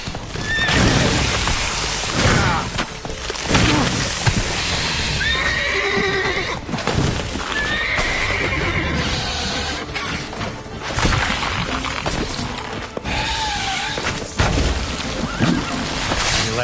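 Geralt's horse Roach in The Witcher 3 on PS5 gives several loud, close whinnies over busy game sound, with some hoof clatter and crashing noise mixed in throughout.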